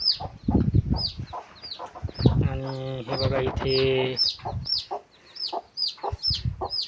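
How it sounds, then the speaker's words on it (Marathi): A hen sitting on eggs on a goat farm clucks repeatedly in short, steady calls close by, while someone talks over part of it. "आता अंड्यांवरती कोंबडी बसवलेली आहे."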